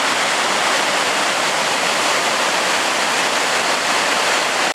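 Rushing water of the Briksdal glacier waterfall in Olden, Norway roars in a dense, steady wash of broadband noise that stays loud and unbroken throughout, close by with no voices.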